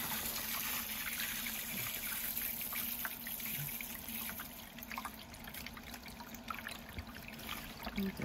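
Irrigation water flowing steadily in a faint, continuous trickle and wash that stays fairly even from start to finish, with no voices.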